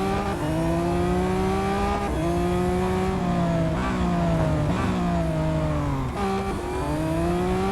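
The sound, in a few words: Lamborghini Aventador SVJ engine racing in Real Racing 3 video game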